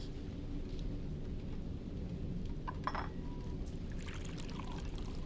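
Rain is starting over dark fields, a steady hiss of falling drops heard from inside a train at night, with a brief clink partway through and a low rumble underneath.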